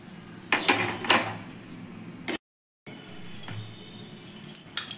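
Metal spoon scraping and clattering against a wok as potato filling is moved into a bowl in a home kitchen, a few close knocks and scrapes, a brief gap, then lighter clinks.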